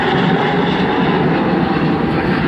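Avro Vulcan bomber XH558, a large four-jet delta-wing aircraft, roars overhead at the East Fortune airshow, a loud continuous broadband engine drone filling the whole clip with no speech.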